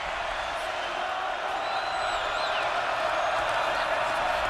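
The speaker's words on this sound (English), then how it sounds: "Crowd as loud as it's been all day." Loud stadium crowd at a college football game between Wake Forest and Army, a steady roaring wash of voices and whoops with no breaks, heard from a distance.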